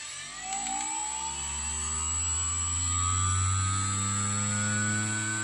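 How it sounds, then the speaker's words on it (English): A homemade spin coater spinning up a circuit board under a lid, a motor whine rising steadily in pitch as it accelerates to a high speed, with a constant high-pitched tone behind it and no talk. "Then I'm putting my lid on here, and I'm going to spin this up."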